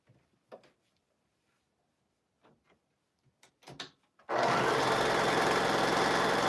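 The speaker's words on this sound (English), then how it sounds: "I'm going to keep sewing" A sewing machine stitching a row: after quiet scattered clicks and handling taps, it starts abruptly and runs steadily and loudly to the end.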